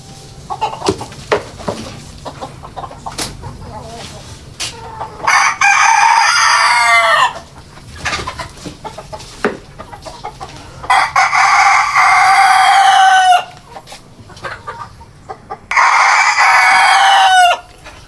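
A red Elba rooster in a farm cage crows three times in long, loud bursts spaced several seconds apart, with quieter clucking and rustling between the calls.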